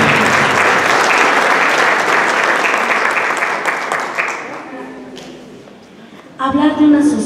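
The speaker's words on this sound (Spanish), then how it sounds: "El aplauso fuerte para los hermanos Escamilla" An audience at an awards ceremony gives loud, sustained applause for several seconds. The clapping fades out toward the end, then a voice comes in over a brief renewed burst of sound.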